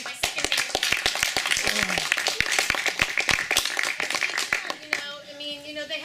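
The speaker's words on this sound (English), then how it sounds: "I just want to give a big round of applause to Dee" A small audience applauds for Dee: a burst of close, sharp handclaps in a loose, uneven rhythm that keeps going for about five seconds, then stops suddenly as talking begins.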